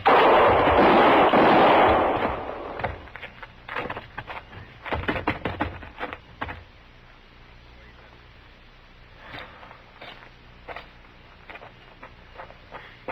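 Gunfire from a western TV drama, a loud blast at the start followed by a rapid string of sharp cracks and clatter that fades into scattered quieter hits, close and dramatic.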